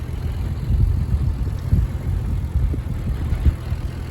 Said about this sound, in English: Slow and easy on the tractor.